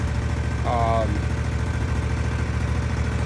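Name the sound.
Lesco 48 mower with John Deere garden tractor engine running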